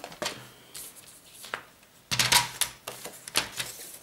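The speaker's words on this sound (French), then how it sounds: "Je vais le faire au massicot" A paper trimmer (guillotine) slices a sheet down by half a centimetre while a shaker frame is being made: scattered dry clicks and handling taps, then a sharper rasping cut and a few more snaps, close and fairly quiet, with no talking.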